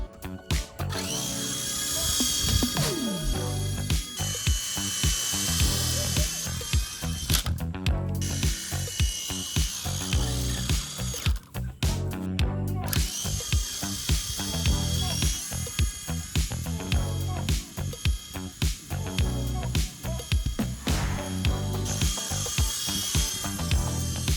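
A toy RC helicopter flying outdoors, a high-pitched whirring motor buzz that wavers and surges, broken by brief clicks and gaps, close and fairly loud throughout.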